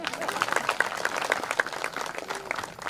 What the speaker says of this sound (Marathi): समजलं असेल तर टाळ्या वाजवा.